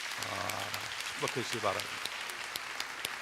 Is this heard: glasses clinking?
no